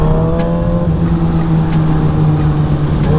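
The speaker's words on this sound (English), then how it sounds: "that bike looks good going down the road, don't it?" A 600cc supersport motorcycle, either a Kawasaki ZX-6R, Yamaha R6 or Honda CBR600RR, rides down the road. Its engine gives a loud, steady drone with a pitch shift early on, heard close up with no speech.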